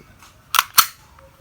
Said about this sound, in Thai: เดี๋ยวจะมายิงสาธิตการยิงให้ดูนะฮะ